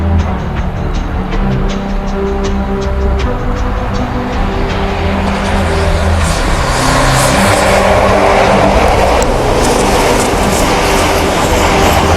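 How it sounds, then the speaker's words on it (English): A model railway HST train runs around a bend, a loud continuous rumbling and rattling with a rapid clicking rhythm early on, building into a brighter, harsher roar in the second half. "you ever notice that the HST has got some level of tilted to it around the bend?"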